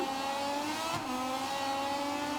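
Moto2 racing motorcycles at Chang International Circuit in Thailand, a steady high-pitched engine wail from several bikes at full throttle, continuous and loud with shifting pitch as they race past.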